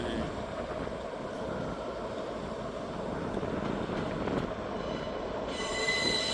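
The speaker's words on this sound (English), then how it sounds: "Departing out now is the delayed 1456 ScotRail service from Inverness to Glasgow Queen Street." ScotRail Class 158 diesel train pulling out of Perth station with steadily squealing wheels, a loud close continuous rumble and screech of rail noise that carries on throughout.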